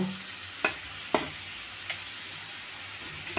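A metal spatula scrapes and knocks against a frying pan while fish heads are broken up for a Bengali moong dal, giving three or four sharp, separate clacks over a low, steady sizzle.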